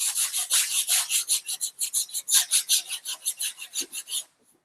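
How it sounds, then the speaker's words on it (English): Steady back-and-forth rasping of a sanding block over body filler on a car panel, worked in quick crisscross strokes, close up and rhythmic for about four seconds before stopping. "Crisscross it, crisscross to cut it quicker. And your whole goal is to feather out your edges."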